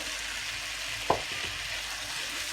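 Pieces of tomato go into a pan of frying spice paste for mustard rui fish curry and set off a soft, steady sizzle. A single sharp clatter or plop comes near the middle, and the pan hisses quietly before and after it.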